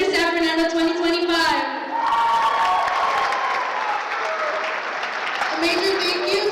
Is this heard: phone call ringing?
no